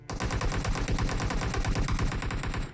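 Rapid automatic gunfire in the PUBG Mobile video game rattles out in a loud, continuous burst of evenly spaced shots, close and without pause.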